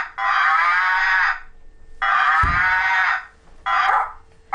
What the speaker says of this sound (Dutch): Dat is een koe.